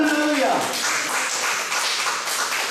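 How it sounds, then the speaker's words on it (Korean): A church congregation breaks into loud applause right after a brief spoken voice, a dense wash of clapping that holds steady to the end. "다시 한번 뜨거운 박수합니다."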